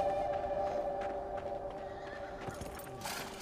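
Horses neigh and whinny with clip-clopping hooves on a ranch in the video game Beyond Two Souls, fairly close over a steady ambient hum, with no speech.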